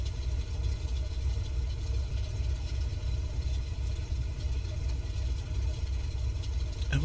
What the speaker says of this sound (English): Okay, so we'll let the engine warm up here.